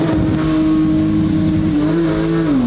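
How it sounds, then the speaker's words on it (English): An SV car launching and accelerating hard, with a loud, steady engine drone whose pitch holds and then rises slightly toward the end. Heard from inside the car. "You wanna launch this car? Yeah. Launch it."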